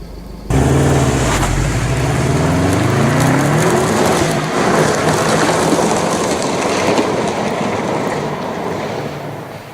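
A car accelerating hard in rear-biased all-wheel drive on a tarmac road, heard as a loud, close engine roar that starts abruptly and climbs through rising revs, then holds a dense, sustained drone for several seconds without speech.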